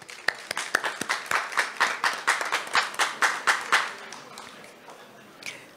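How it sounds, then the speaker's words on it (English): An audience at an evening sponsors' cheque presentation at Saint Lucia Jazz 2023 claps in a rhythmic, fairly close round of applause that fades out after about four seconds. "please join me in giving a round of applause to all the sponsors here tonight."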